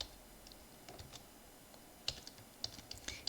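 Quiet, close keystrokes on a computer keyboard tap in irregular bursts, with sharper clustered clicks in the second half over a faint background hiss.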